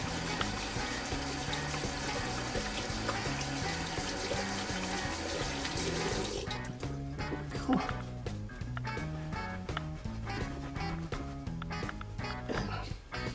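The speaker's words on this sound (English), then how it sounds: "I'm going to rinse it out with hot water." Hot tap water runs loudly from a faucet for several seconds to rinse a shaving brush after a face lather, then cuts off abruptly, leaving faint splashing and dripping.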